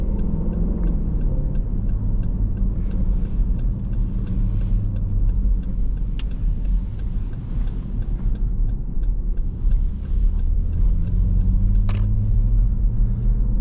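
Deep rumbling engine and exhaust note from a 2023 Dodge Durango SRT 392 V8 under way, a loud steady growl inside the cabin with brief swells and small ticks and clicks over the roar, no talking.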